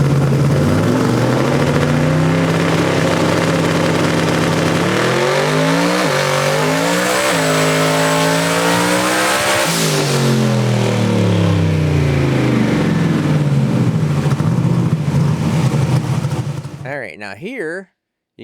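A turbocharged car engine roars loudly through a sustained boost pull, climbing and shifting pitch through several gear changes up to about 8,400 RPM before cutting off abruptly near the end.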